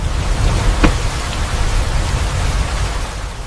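Steady rain hisses evenly throughout, with a brief sharp crack near the start rising above the downpour.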